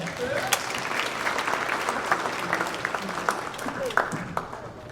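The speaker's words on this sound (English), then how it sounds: "Give him a round of applause." An audience at a school parent night for a rising senior class applauds, a dense run of clapping with sharp individual claps standing out and a murmur of voices underneath.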